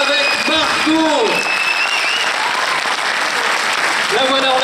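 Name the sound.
audience applauding actress Margot at film premiere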